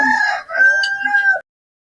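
A rooster crows once up close, a loud, drawn-out cock-a-doodle-doo lasting over a second before cutting off into silence.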